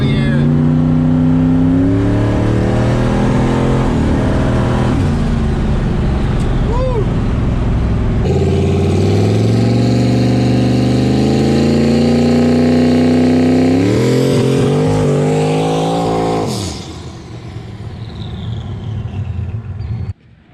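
Ford 427 Windsor big-turbo car revving and racing under boost, a loud sustained engine roar climbing through several gear pulls before easing off near the end, with people talking over it.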